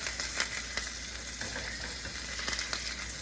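Sausages sizzle and fry in a pan, a steady crackling hiss with scattered sharp pops, close and fairly quiet.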